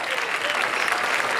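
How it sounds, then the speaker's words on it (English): A hypnotist show audience breaks into a big round of applause, dense and steady clapping filling the room without pause. "how about a huge round of applause for all those that did try it"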